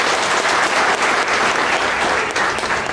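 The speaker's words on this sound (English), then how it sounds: "A big round of applause, please." An audience breaks into loud, dense applause, a continuous roar of many hands clapping close by, sustained without pause.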